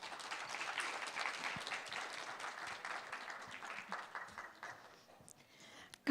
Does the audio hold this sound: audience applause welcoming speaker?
yes